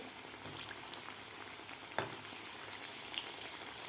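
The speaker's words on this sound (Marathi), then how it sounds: "तेल आपलं व्यवस्थित गरम झालेलं आहे तर आता मिडियम गॅसवर आपल्याला हे क्रिस्पी होईपर्यंत तळून घ्यायचे आहेत" Puffed rice pakoras frying in hot oil over a medium flame, giving a steady, dense crackle and bubbling sizzle throughout, with one sharper pop near the middle and no voices.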